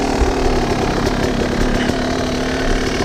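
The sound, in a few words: hard enduro dirt bike engine idling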